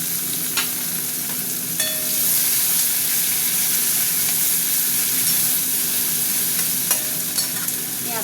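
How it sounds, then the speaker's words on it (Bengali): Chopped onions fry in a pan with a constant, close hiss and sizzle lasting throughout, plus a few faint clinks of stirring and no voices. "পেঁয়াজটা ভাজা হতে থাক।"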